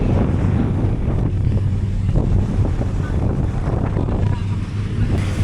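Calypso 12, a cruise boat heading out toward the Great Barrier outer reef, rumbles steadily with low engine drone, wind buffeting and water wash throughout, continuous and fairly loud.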